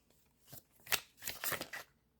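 Tarot cards being shuffled by hand, a few quick papery riffles and soft slaps in short bursts, close and quiet with no talking.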